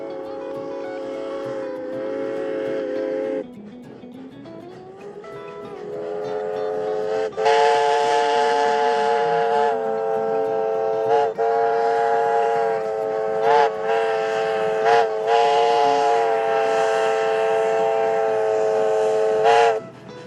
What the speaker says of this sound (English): It's a really fun ride on 3-foot narrow gauge, oil-fired steam engines.